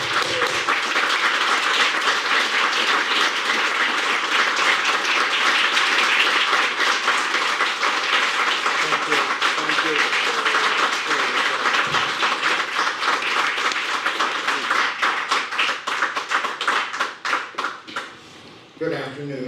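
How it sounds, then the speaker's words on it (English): A luncheon audience at an awards event breaks into sustained applause, a dense wash of many hands clapping close and steady, thinning out near the end, with some speech mixed in. "Richard, we all applaud you."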